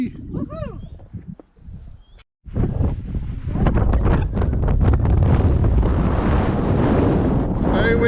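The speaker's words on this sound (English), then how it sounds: "Very windy." A brief voice and quiet rustle on a coastal path by the sea, then strong wind suddenly roars and buffets the microphone, a loud continuous rumble that keeps blasting to the end.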